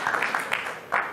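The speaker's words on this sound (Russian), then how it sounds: "здесь бурные аплодисменты" A brief burst of applause at a team world championship semifinal between Kyrgyzstan and Belarus greets athlete Kainebek Sagynbaev. The clapping is fairly faint, uneven and crowd-like, and it swells again toward the end.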